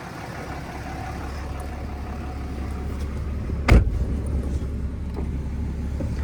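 A 2012 Ram 2500 with a Cummins diesel engine on the move, giving a steady low rumble throughout, with a brief louder burst near the middle and faint noise above it, no talking.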